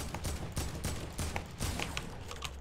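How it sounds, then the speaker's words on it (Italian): Rapid volleys of gunfire crackle close by in a Fortnite match, dense overlapping shots filling the whole stretch with no pauses. "Si stanno sparando qua vicino."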